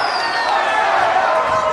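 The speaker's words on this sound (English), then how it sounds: "Just listen to this crowd!" Wrestling crowd at a live match roaring and cheering, a loud continuous wall of voices with a high whistle sliding down through it and a commentator's voice underneath.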